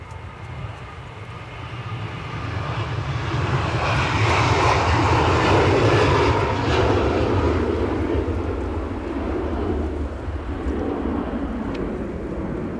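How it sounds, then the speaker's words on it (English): An EasyJet airliner taxis at Edinburgh Airport, its jet engines giving a broad, loud roar that swells and then eases off slightly over about thirteen seconds, with no talking. "Okay, so EasyJet trundling in."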